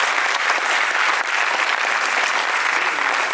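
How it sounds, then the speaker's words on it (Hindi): Sustained, dense audience applause from a large crowd at an Indian education lecture, loud and steady throughout with no speech over it. "तालियां तो आप बजा रहे हो"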